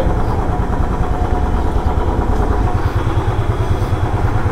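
A motorcycle engine idles at a petrol pump during a pollution check. Its loud, steady low putter and chug carry on close by with no voices.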